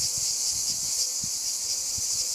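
A constant high-pitched drone of cicadas, buzzing steadily throughout, with faint low rustling and knocks underneath.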